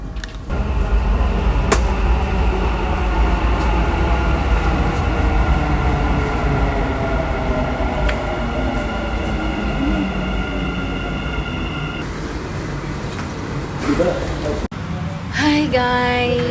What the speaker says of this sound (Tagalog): The train to Center Point will arrive at platform.